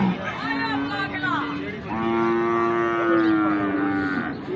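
A cow at a busy cattle market lows in two long, loud, close moos, the second drawn out and steady, over a murmur of market noise.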